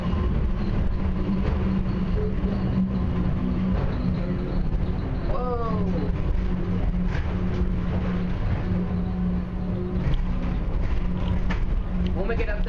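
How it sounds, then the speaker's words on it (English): The IAH inter-terminal airport train moving between Terminal B and Terminals D/E gives a steady low rumble and hum with mechanical creaks and a brief rising whine mid-ride, continuous throughout under faint voices in the car. "I'm not gonna get up right now because of the train's moving."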